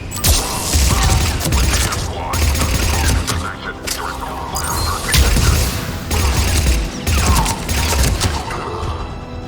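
Heavy, sustained gunfire erupts at a checkpoint in Mass Effect 3, loud, dense bursts with mechanical clanks and crashes layered underneath, continuing steadily with brief dips, while voices call out amid the fighting.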